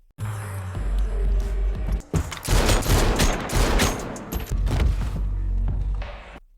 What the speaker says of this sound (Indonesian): Di saat Brian akan ditembak oleh Ruiz, detektif Dennis datang dan menembak Ruiz saat itu juga